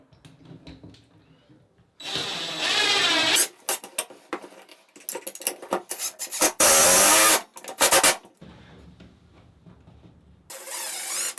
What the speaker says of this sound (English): I'm going to screw one of my screws into the stud, and the other one's just going to go right into the drywall.